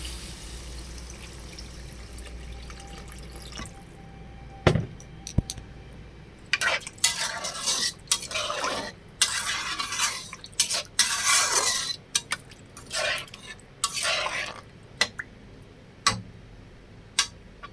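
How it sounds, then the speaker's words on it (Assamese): Water is added to a pan of fried potatoes and fish with thekera, followed by stirring. A ladle scrapes and clinks against the metal pan in irregular strokes. "এতিয়া মই ইয়াত অকণ পানী দিম।"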